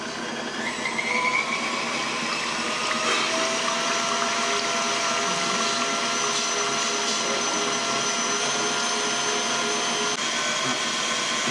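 A hand-held electric mixer whips cream into chantilly for a strawberry mille-feuille, a loud, steady whirring drone with a constant pitch running close and unbroken throughout, with no talking.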